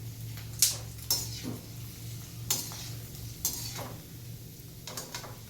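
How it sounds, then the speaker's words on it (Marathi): Pingar fryums frying in hot oil for a Holi snack, a steady close sizzle broken by a few sharp clinks and scrapes of stirring in the pan, over a low constant hum. "छान असे पिंगर तळून घेत आहे आता."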